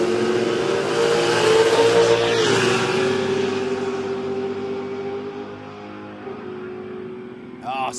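V8 drag racing cars at Warwick Dragway in Australia, a loud, continuous engine roar that holds a steady drone and rises briefly, with faint chatter underneath and a short sharp burst near the end.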